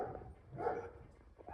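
A dog barks somewhere in a room where a Bambu A1 3D printer sits: a single muffled, moderately distant woof rising out of low background noise.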